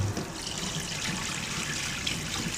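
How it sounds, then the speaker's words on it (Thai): Eggs being washed under running tap water in a home kitchen, a steady close splashing stream that continues without a break. "ล้างผิวไข่"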